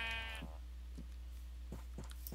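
Sheep in the video game Minecraft let out a short harmonic bleat at the start, followed by several soft, scattered thuds over a low steady hum.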